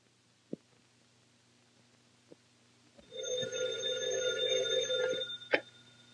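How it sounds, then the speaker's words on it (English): An old telephone bell rings in a continuous loud metallic trill for about two seconds, preceded by a few faint knocks and ending with a sharp click. "Telephone. Phone."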